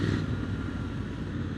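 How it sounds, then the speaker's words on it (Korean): A Triumph Scrambler 1200 XC with a 270-degree-crank twin-cylinder engine and Arrow exhaust gives a steady, deep, close rumble at low revs. "트라이엄프 이 1200 라인에 270도 크랭크 소리에 이제 빠져버리게 된 거죠"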